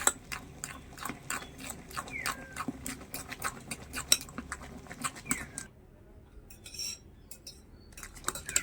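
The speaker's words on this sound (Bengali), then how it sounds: "এখানে সব কিছু খুব ভালোভাবে একটু ফেটিয়ে নিয়েছি এরকম একটা কাঁটা চামচ দিয়ে" A fork clinks quickly and rhythmically against a bowl while beating a mixed batter with vegetables, close and fairly quiet, then stops for a few seconds of faint handling noise before a last few taps.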